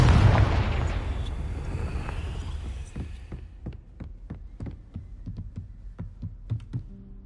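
A big fiery blast from the Confringo spell in Hogwarts Legacy opens with a heavy boom that decays slowly into a rumbling tail. Sharp, spaced impact sounds and crackles follow.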